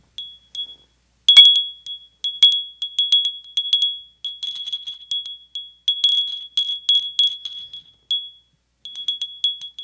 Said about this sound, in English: I get to ring her bell.